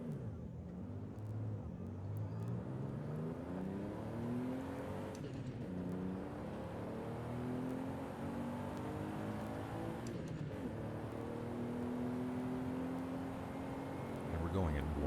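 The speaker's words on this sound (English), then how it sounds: "And we're going in wide open here. 2-liter 1JZ is not exactly a powerhouse in stock form." A stock 2-liter 1JZ engine in a racing video game held at full throttle, harmonic engine tones climbing and falling through gear changes across the whole stretch, with a voice talking over the steady drone.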